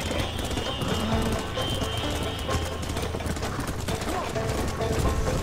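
Galloping horse hooves in Red Dead Redemption pound rapidly and continuously beneath a dense, noisy mix, with some voices mixed in.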